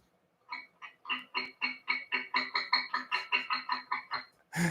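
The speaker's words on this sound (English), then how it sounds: "So next one is Pizz sul ponticello." Cello pizzicato sul ponticello sample, a rapid series of about twenty plucked, muted notes in an even rhythm, fairly quiet and close, with no voices.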